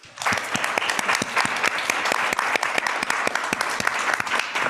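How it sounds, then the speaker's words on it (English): A room of listeners claps for the panelists at the close of a discussion on AI in health sciences and biotech. The applause is sustained and even, full of crisp overlapping claps, and there is no speech over it. "So let's give a big round of applause."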